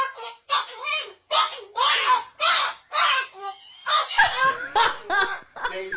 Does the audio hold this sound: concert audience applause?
no